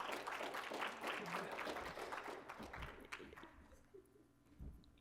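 Enthusiastic clapping from a tech talk audience welcoming a speaker, loud and dense at first, then thinning out to scattered claps before fading.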